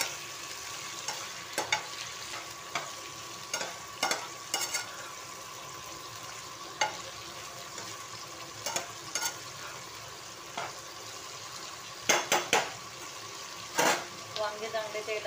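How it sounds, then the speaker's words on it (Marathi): Eggplant frying in oil: a steady, soft sizzle runs throughout, with occasional sharp clinks and scrapes from stirring in the pan, no voices. "वांगे चांगले तेलामध्ये भाजले ना मग चविष्ट होतात अतिशय."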